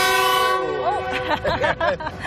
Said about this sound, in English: Let's see if the whistle blows. It might be loud.